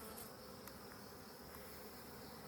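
Bees swarming over an open hive during an inspection, a dense continuous buzzing hum that stays even and fairly close throughout.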